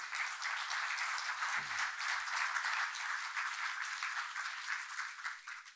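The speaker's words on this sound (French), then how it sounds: "Merci beaucoup Sébastien Tandeur, qu'on peut applaudir" An audience at a business conference applauds a speaker, a dense, even wash of clapping that holds steady at moderate level from start to finish.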